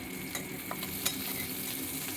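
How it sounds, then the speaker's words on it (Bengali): Chopped onion and a split green chili frying in oil in a pan, a steady soft sizzle with a few faint stirring clicks, fairly quiet and close, no talking. "দিয়ে এটাকে আমি এখন একটু ভালো করে পেঁয়াজগুলো লাল করে ভাজা অবধি অপেক্ষা করব"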